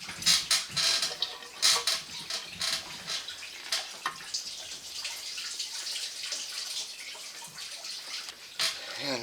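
Coolant trickles and drips from a loosened radiator hose on a GMC Sierra with the 5.3L engine during water pump replacement, a faint steady watery patter with occasional tool clinks.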